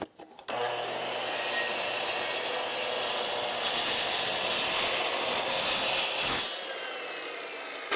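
Saw cutting through a wooden board along a previous cut, a loud continuous rasping grind lasting about six seconds before stopping abruptly, then fading to a quieter hum.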